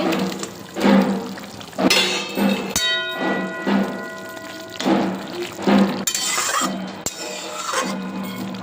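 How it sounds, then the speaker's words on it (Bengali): Pieces of boal fish go into a boiling spicy mustard-oil curry, with repeated metallic clinks of a utensil against the pot, a brief ringing tone, and soft watery bubbling close by, with no talking. "ঝোলটা ফুটে গেছে এবার মাছগুলো দিয়ে দিচ্ছি"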